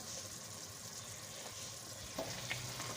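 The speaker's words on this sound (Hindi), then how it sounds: "15 मिनट तक मसाले को हमने अच्छी तरह से भून लिया है।" Spice masala of crushed red chilli and ground cumin fries in a pan for a chicken malai handi, giving a faint, continuous sizzle with occasional light stirring scrapes and no talking.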